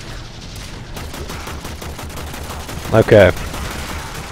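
Gunfire in the video game Warframe rattles in a steady rapid stream of shots through the whole stretch, with one louder burst near the end, while someone briefly speaks over it.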